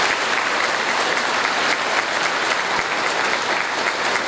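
Steady, dense applause from an audience filling a decorated municipal hall, loud and continuous throughout with no break and no talking over it.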